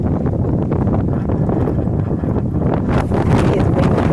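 Strong wind buffeting the microphone at an outdoor stone circle in Cornwall, a loud steady roar with gusty rumble throughout.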